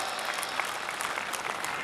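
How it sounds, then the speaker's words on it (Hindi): A short burst of audience applause at a Rajasthan Police foundation day ceremony at RPTC Jodhpur, cheering a constable's acting performance; even, continuous clapping. "इस रेखा के इस शानदार अभिनय के लिए आप लोगों की जोरदार तालियां"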